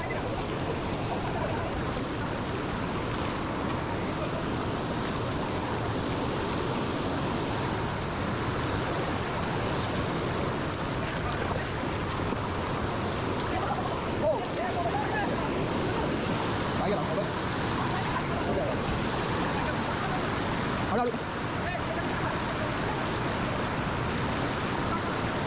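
Water rushing at Kalu waterfall, a continuous dense roar of flowing water filling the surroundings, steady and fairly close, without clear speech on top.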